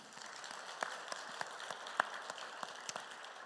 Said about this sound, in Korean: 우리 찬양대의 감사를 하나님께 영광의 박수 올립시다.